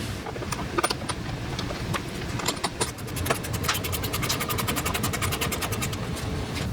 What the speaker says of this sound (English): we can put in our final screw on that inner mounting point